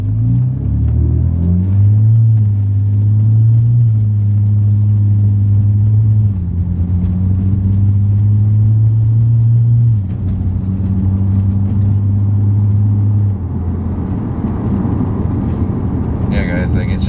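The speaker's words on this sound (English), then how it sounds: "I'll accelerate here after this light turns green." BMW E90 328i with a dual exhaust conversion accelerating from a stop at a traffic light: a loud, deep engine rumble rises in pitch through several gear changes, droning steadily and filling the cabin.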